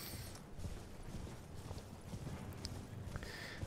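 Horse hooves clip-clop at a gallop in the Elden Ring video game, a steady rhythmic pounding with game ambience around it; close and fairly loud throughout.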